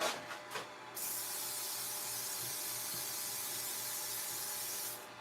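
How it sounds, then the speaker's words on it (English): A steady aerosol spray of glue activator hisses for about four seconds after a brief rustle, then cuts off, in a woodturning shop. "So I'm going to just spray this real quick."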